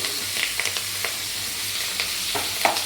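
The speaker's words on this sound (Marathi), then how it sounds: "आणि आता इकडे मस्तपैकी आपण फोडणी करून घेत आहोत." Tempering spices and curry leaves fry in hot oil for a tamarind-jaggery dal, a steady close sizzle with scattered crackles and a few stirring scrapes.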